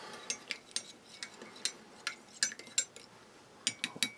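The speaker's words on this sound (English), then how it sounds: "And we'll just give that a stir too." A spoon stirs tea in a cup from a Russian army combat ration, giving a run of bright, close metallic clinks in an uneven rhythm, some tapping in quick clusters, with no talking.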